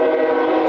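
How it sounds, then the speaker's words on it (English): A train passes near a small riverside town, a loud steady rumble with a sustained horn-like drone that holds for the whole moment, with no voices over it. "sorry, it's a train."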